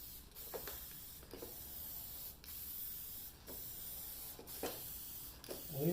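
An aerosol sealant coat sprays onto an alcohol ink painting on canvas as a continuous faint hiss, broken by brief regular gaps as the can sweeps back and forth, close and steady.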